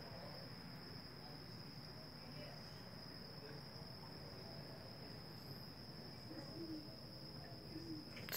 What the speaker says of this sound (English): Now there's a cricket,